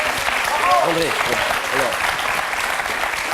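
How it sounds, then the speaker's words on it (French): Applause from a television game-show studio audience, a continuous wash of clapping with a host's voice talking over it. "Applaudissez-le encore une fois."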